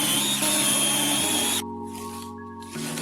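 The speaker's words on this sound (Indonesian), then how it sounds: "bor lubang di tempat yang sama" A power drill boring holes into a wooden board for a dowel joint, a steady high motor whine that shifts pitch as the bit loads and eases, close and loud.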